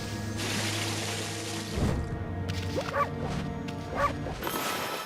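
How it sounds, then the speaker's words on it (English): Several dog barks in the video game Okami, a few sharp yips standing out over a steady musical drone and background ambience, with no talking. "barking agitates the trees"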